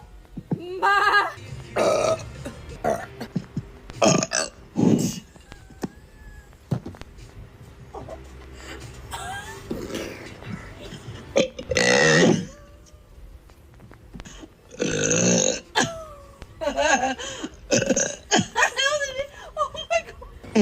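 Loud, close burps repeat in bursts across the stretch, some long and drawn out, mixed with laughter and talking.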